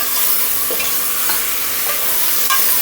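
Onions and tomatoes fry in a pressure cooker while being stirred, giving a steady sizzle broken by a few soft spoon scrapes and clinks, with no talking.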